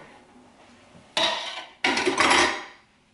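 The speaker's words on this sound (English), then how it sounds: "Let's get rid of this hot pan." A hot metal pan being lifted off the stove after baking dip cups, giving two loud scraping, clattering bursts about half a second apart, close by and with no voices.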